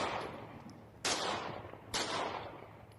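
Gunfire outside a house in Canada, two sharp cracks about a second apart, each trailing off in a long echoing decay, fairly distant and with no voices.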